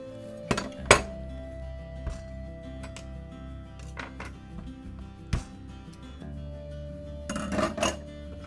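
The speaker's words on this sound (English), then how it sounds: "So we'll just cut this in half." A knife halving an avocado on a kitchen counter while flourless avocado brownies are prepared, heard as a few sharp clinks and taps of the blade against a board or dish, close and clear, with low kitchen hum between strikes.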